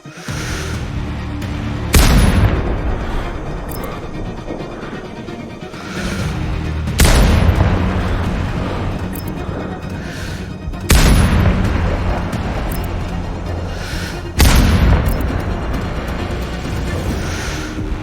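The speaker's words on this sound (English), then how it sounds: "Base, we have an explosion in Sector 4." Four heavy booming explosions in the video game SGW Contracts 2 go off at spaced intervals, each a sharp blast followed by a long rumbling decay, over constant low background noise.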